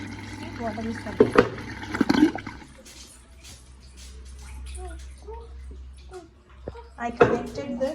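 An LG fully automatic washing machine begins filling, water splashing and running into the drum with a low steady hum, close by, with a child and an adult talking at moments.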